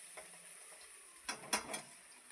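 Beans and carrots stirred in a frying pan with onion, a quiet sizzle under a few scraping clatters of the spatula, three sharper strokes close together near the end.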